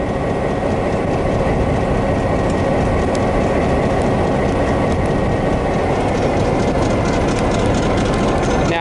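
A train pulling away from platform 3, a loud continuous rumble with rhythmic clacking and mechanical rattling, close by and steady throughout.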